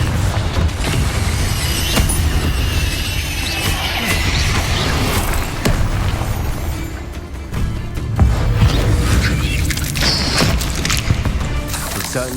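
Spell blasts in the wizarding game Hogwarts Legacy, with heavy booms, crashes and thuds landing one after another in a loud, busy combat scene, each blast's rumble still trailing as the next impact hits.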